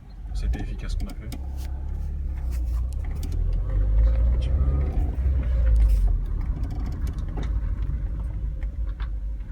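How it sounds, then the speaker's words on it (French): A Renault Laguna rolls and brakes during a road test, heard as a steady low interior rumble of the moving car with someone talking over it. "Donc là on va tester le freinage, voir si ça a fonctionné ou pas."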